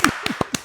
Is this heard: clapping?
yes